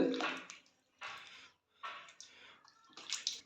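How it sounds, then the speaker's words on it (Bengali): Goat meat being washed by hand in water, with bursts of splashing and sloshing in four distinct rounds separated by short pauses, close and moderately loud. "এখন মাংসটা ধোয়া হবে"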